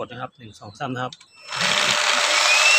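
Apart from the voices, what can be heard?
Electrolux cordless vacuum cleaner motor running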